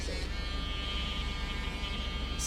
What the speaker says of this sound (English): So the reason why I use a grinder or a Dremel on Zoey, because her nails are a dark brown